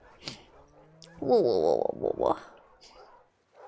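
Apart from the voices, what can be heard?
dog whimpering in video game The Last of Us Part II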